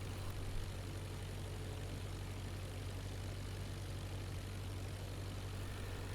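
A propeller aircraft engine held at 1000 RPM in IL-2 hums as a steady, even, low drone with a broad airy noise layer, continuous and unchanging throughout.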